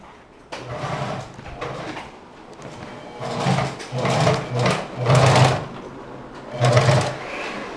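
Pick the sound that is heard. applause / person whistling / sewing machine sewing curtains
sewing machine sewing curtains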